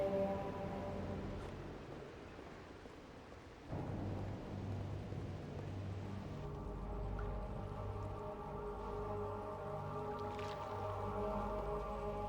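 Murky water in Tomb Raider: Angel of Darkness Remastered, a soft sloshing, dripping ambience with a low rumbling drone underneath, quiet and steady with a slight surge partway through.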